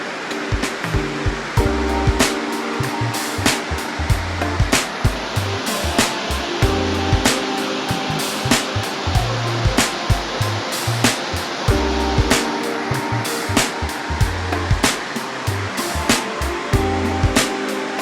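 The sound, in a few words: Elephant Falls waterfall near Shillong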